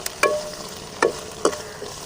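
Appakovai greens sautéing in hot oil, with three or four sharp stirring scrapes and brief sizzles spaced about half a second apart over a quiet background, close and alone.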